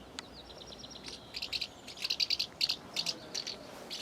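Baby birds in a nest overhead give rapid high-pitched chirps and tweets in quick clustered bursts, moderately loud, over faint outdoor background with no talk.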